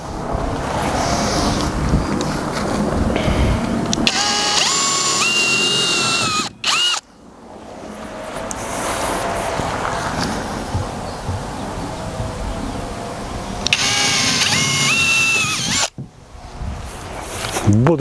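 A power drill bores steadily in a forge workshop during its dismantling, whining loudly with brief pauses as the load shifts, and people talk over it.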